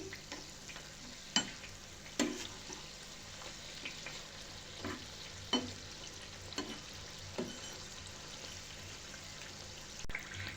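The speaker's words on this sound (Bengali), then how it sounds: "একটা সাইড খুব ভালোভাবে ভাজা হয়ে যাওয়ার পর আমি অপর সাইডটা একটু উল্টে দিচ্ছি" Vegetable patties fry in shallow oil with a soft steady sizzle, punctuated by several quiet scraping taps of a spatula as they are turned, close and without talk.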